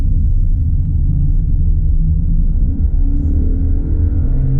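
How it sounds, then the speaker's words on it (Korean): A Genesis EQ900 luxury sedan at high speed, with a deep, steady road and engine rumble filling the cabin evenly and no voices heard. "다시 고속 주행 테스트 하면서 급브레이킹 한번 해보겠습니다"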